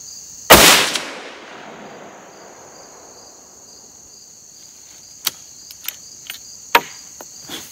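A single sharp, loud rifle shot from a Ruger Precision Rifle in .308 cracks outdoors and rings off into a long decaying echo, followed by chirping crickets and a few faint clicks.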